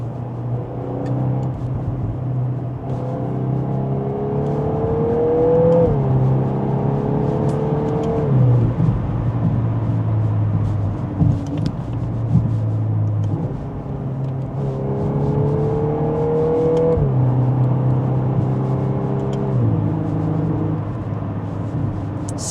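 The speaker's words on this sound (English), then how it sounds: "let's get the Golf R handling test going on right now" A Volkswagen Golf R drives a winding road, its engine rising and falling through repeated acceleration pulls and gear changes, with steady road and wind noise heard from inside the cabin.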